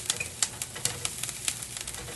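Onions frying in a pan give a steady, quiet sizzle with scattered crackles and small pops, heard close up with no talking.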